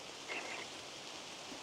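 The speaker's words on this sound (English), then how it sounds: "It's hard to hear with the rain coming down so hard now." Steady broadband hiss of heavy rain pouring down on a trail in the Appalachian Mountains, with no voices, a faint brief chirp briefly rising above the downpour.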